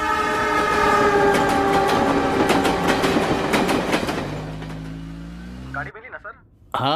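A train at a railway station sounds a long, loud horn over rumbling wheels, then rolls by with rhythmic clatter that fades, followed by brief voices.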